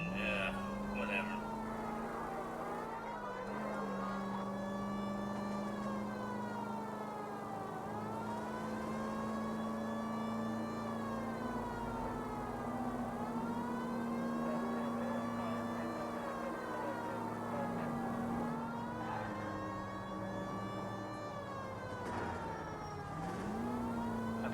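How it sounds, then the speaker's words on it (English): Police car siren in the 1940s Los Angeles video game L.A. Noire, a continuous wailing tone sweeping up and down in slow cycles for over twenty seconds, steady and prominent over low engine and road noise. "you heard my siren, right?"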